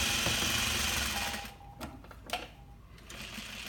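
A sewing machine stitches a slip pocket lining, whirring steadily and close for over a second before stopping, followed by a few faint clicks and handling sounds.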